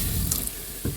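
Cold water runs from a camper sink faucet in a Mallard M-185 travel trailer, a steady rushing splash with a brief bump near the end.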